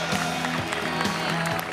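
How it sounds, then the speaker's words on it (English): Enthusiastic applause fills a Labour Party conference hall as party leader Ivana Bacik enters, a steady dense wash of clapping with a tonal hum running underneath, continuous throughout. "enthusiastic applause there that you're seeing is all for the party leader Ivana Bacik"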